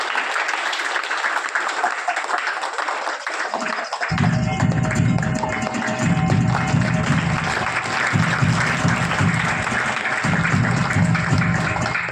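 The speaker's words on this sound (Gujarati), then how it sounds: "આપણે તાળીઓથી આપણે એને વધાવતા રહીશું।" Audience applause at a primary school ceremony in Barwala, steady broadband clapping filling the whole stretch, joined after a few seconds by a low rumbling layer, probably music or background noise, continuing under the clapping.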